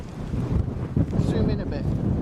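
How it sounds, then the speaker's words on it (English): Outdoor wind buffets the microphone in rough, low rumbling gusts, with a voice speaking briefly over it. "Ooh, here's the wind."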